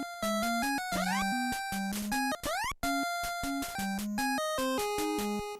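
Super Pitfall video game music, choppily edited so the bright square-wave melody and bass lurch through abrupt cuts, restarts and sudden pitch sweeps. The loud electronic tune jumps between fragments without talk.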